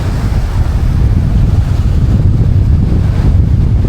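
Strong wind gusting across the open Swan River in Perth, a loud, steady roar buffeting the microphone with no pause, close and unbroken, with no talk heard.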